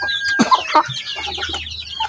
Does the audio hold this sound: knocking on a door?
no